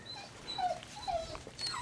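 Puppies whimper in short, high, faint whines, several thin cries spaced apart over quiet background noise.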